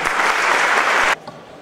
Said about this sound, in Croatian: ja vas molim da ga ovom prilikom pozdravimo jednom aplauzom